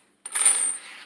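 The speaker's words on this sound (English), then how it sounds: "Put the change over here." Spare change drops into place, a single short bright metallic jingle of coins, close and clear with no talk.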